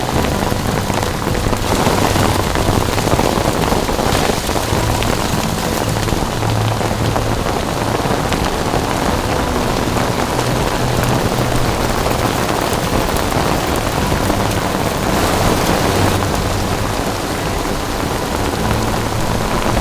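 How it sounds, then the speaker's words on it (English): Heavy rain pours down steadily and loudly during a thunderstorm in Tuktoyaktuk in the Canadian Arctic, a dense unbroken hiss of drops on surfaces with a faint low rumble underneath. "It's been thundering and lightning for quite a while."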